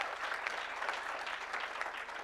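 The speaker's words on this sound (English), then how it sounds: "Let's give them a round of applause." Steady applause from a crowd, dense clapping filling the whole moment at an even level without a break.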